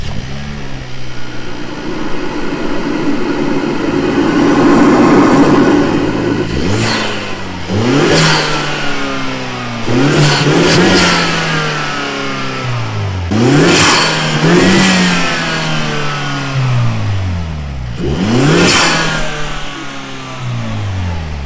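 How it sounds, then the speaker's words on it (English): Hyundai Elantra N engine revving with the hood open, several sharp throttle blips rising and falling in pitch, loud and close, with rough idle between the pulls. "Well, now we're ready to rev it up."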